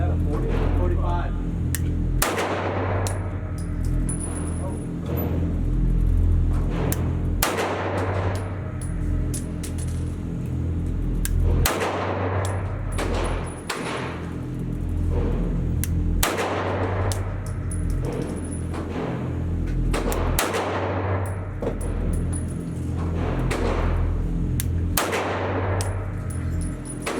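A CZ 75D Compact PCR pistol fires repeatedly at a shooting range, sharp loud cracks spaced a few seconds apart over steady background noise, with people talking between shots.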